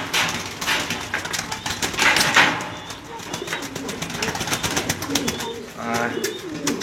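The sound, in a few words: pigeons cooing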